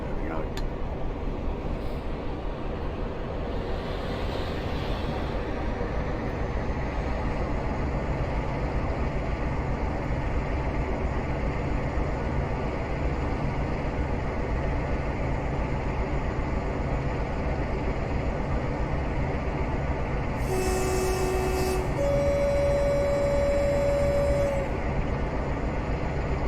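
A Class 47 diesel locomotive in Train Simulator Classic on the Shrewsbury to Bristol route, a steady low engine drone and rolling rumble throughout, with brief tonal whistles near the end.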